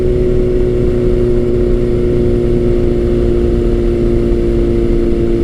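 A Kawasaki Z900 motorcycle with an aftermarket exhaust pipe drones steadily with a low, loud engine hum at constant speed, with no talking.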